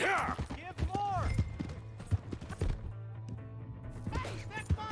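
Horse hooves clip-clop steadily in Red Dead Redemption II, heard close beneath overlapping talk and other game sounds.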